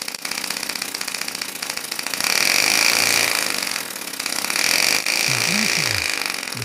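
A homemade air motor spinning at about 4500 RPM, giving a loud, steady mechanical buzz that swells and eases in speed, with a brief tonal whine near the end.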